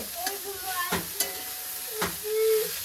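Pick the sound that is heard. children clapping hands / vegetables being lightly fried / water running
vegetables being lightly fried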